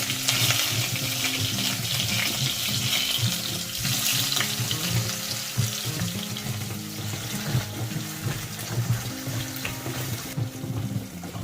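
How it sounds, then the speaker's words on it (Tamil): Loud, steady sizzling of onions and green chillies frying in a hot pan for egg curry, with crackling and occasional stirring scrapes, no talking. "இப்போ பாருங்க வெங்காயம் நல்லா வதங்கிடுச்சு."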